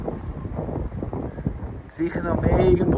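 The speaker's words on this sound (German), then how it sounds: "Der Wind ist stärker." Strong wind gusting outdoors during a winter garden cleanup, roaring and buffeting the microphone and rising toward the end while a person speaks briefly.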